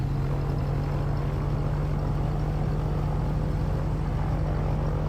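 Steady propeller engine drone with a strong low hum, constant and loud throughout, from an idling light aircraft in Microsoft Flight Simulator 2020.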